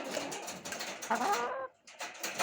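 Hens cluck in a busy, agitated chorus close by, broken by a short lull before the clucking picks up again.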